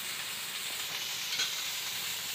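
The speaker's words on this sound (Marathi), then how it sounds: "आता बारीक गॅसवर हे तळू द्यायचा मच्छी।" Surmai (kingfish) pieces shallow-frying in oil in a pan on low heat, a steady close hissing sizzle with fine crackles and one brief louder pop.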